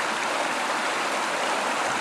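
River water flows through a gold sluice, a steady close-up rushing and hissing with no breaks and no voices.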